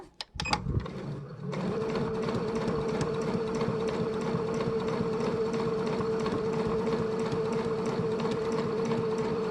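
An NCC Magic Art sewing machine fitted with an O presser foot stitches a 1 cm seam in fabric. A few clicks come first, then a steady fast mechanical whirr that runs close and continuous to the end.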